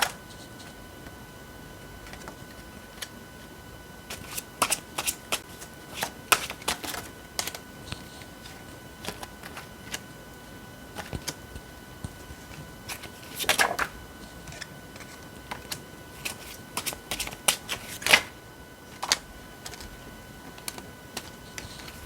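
Tarot cards handled and shuffled during a card reading, heard as scattered light ticks and crisp clicks with a few denser flurries, close and fairly quiet, with no voice.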